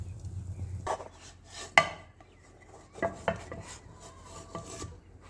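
Bread pizza being served out of a pan onto a dish: close metallic scrapes, clinks of a utensil against the pan and a few soft knocks, irregular and quiet.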